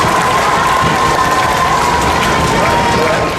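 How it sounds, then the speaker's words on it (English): An audience at the Naselle High School 2023 awards gathering claps and cheers for the cross country team in a dense, sustained round of applause with a voice under it. "So let's give the cross country one final round of applause."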